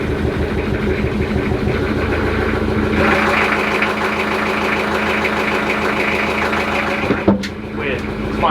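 A boat engine grinds and chugs in a rapid, uneven rhythm as it cranks and strains to catch, loud and close, then cuts off abruptly near the end.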